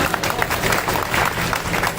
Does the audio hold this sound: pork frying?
no